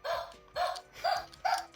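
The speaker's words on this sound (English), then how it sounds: "Oh, this is the dog." Four short electronic dog barks, evenly spaced and thin-sounding, like a toy's recorded woof played back quietly, from an Ojamajo Doremi Minarai Tap toy.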